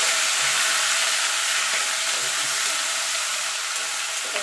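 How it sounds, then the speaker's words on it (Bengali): Two bay leaves and whole cumin seeds sizzle in hot oil as the tempering for a home-style Bengali aar fish curry, a steady close hiss and crackle with no voices. "ফোড়নে দিয়ে দেবো 2টো তেজপাতা আর গোটা জিরে।"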